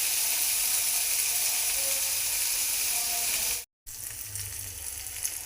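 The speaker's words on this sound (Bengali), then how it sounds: "আমি এখানে আনাজটা ভাজছি" Mixed vegetables frying in a pan for dudh shukto, a Bengali dish, give a continuous close sizzle that cuts out briefly near the end, then resumes more softly.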